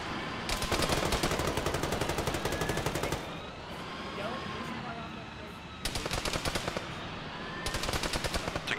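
Rapid automatic gunfire bursts in ShackTac Arma, loud and sustained in three long volleys with a quieter gap between, under faint distant shots and ambience.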